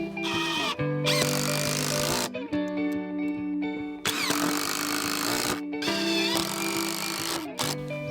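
A power drill drives screws through stacked boards of a raised vegetable garden bed, giving three long, close whirring bursts with brief pauses between.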